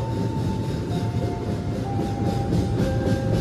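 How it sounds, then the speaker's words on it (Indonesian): A train rumbles steadily past on track 2 through a station without stopping, a dense low roar with faint high squeals from the wheels on the rails, continuous and fairly close. "Ada di jalur 2 kereta api melintas langsung."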